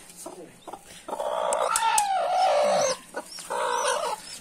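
A country hen clucks beside her newly hatched chicks in a village setting. The clucks and throaty calls come in bursts at close range, with brief pauses between them, and nobody speaks.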